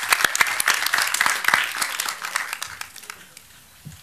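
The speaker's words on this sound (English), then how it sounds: "So a round of applause for him for all that he's achieved" Applause at a song launch event for Shah Rukh Khan, Kajol and Kriti Sanon, with dense clapping that is loud at first, then thins out and fades over a few seconds.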